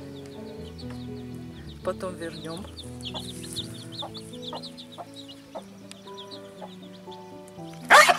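A borrowed broody hen clucks softly and repeatedly among her chicks on a rural farmstead, with thin peeping chicks and a brief sharp squawk near the end, while a person speaks a few words nearby.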